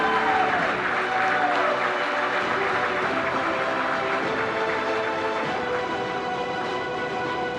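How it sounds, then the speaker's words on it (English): Full, sustained applause from a large audience at an awards banquet, dense and steady for the whole stretch, with faint tonal hum beneath. "Please give a round of applause for the Rolex Junior All-America First Team."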